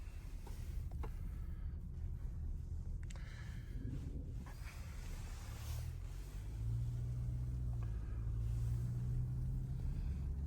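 A 2018 Range Rover Velar D240 S R-Dinamic is driven, its engine giving a low, steady rumble heard from inside the cabin that swells slightly as it accelerates.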